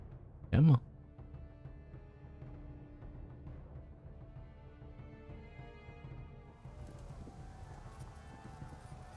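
Horse hooves clip-clop at a gallop in the medieval game Kingdom Come: Deliverance, steady and mid-distance under a bed of music and ambience, after a brief loud burst near the start.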